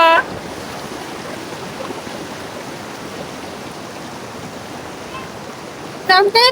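Steady broadband rush of a forceful stream at a Shiva temple fills the whole stretch, loud and close, with brief bursts of other sound near the start and end.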